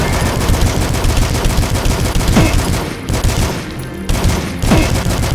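Loud, sustained automatic gunfire from an assault rifle in the video game Dusk, a dense continuous rattle of rapid shots with brief pauses, close and dominant throughout.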